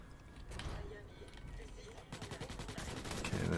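Dense gunfire in the video game Starship Troopers: Extermination, a steady rattle that becomes a harder, faster automatic burst partway through and continues to the end.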